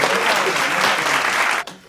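An audience claps in a dense, steady wave of applause that drops away sharply near the end.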